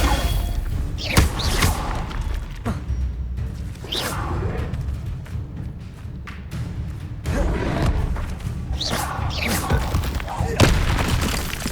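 Magic spell blasts in Hogwarts Legacy, the wizarding video game: several booming, crashing impacts with whooshes, landing at irregular intervals amid continuous battle noise, with some voice activity mixed in.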